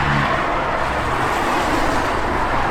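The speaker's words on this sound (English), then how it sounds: "But we have a ton of traffic today." Loud, continuous road traffic close by, a dense roar of engines and tyre noise with no pauses.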